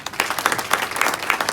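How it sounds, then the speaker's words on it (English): An audience at a finance event on the Zimbabwe dollar claps in a brief burst of close, dense applause. "A round of applause for Brains"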